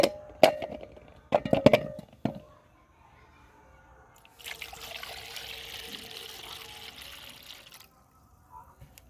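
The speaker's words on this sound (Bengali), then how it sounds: "এখন পেয়ারাটা ভালো করে ধুয়ে নেব" A guava being washed in water: a few sharp clangs and splashes at first, then a steady run of pouring water from a tap for several seconds, close by.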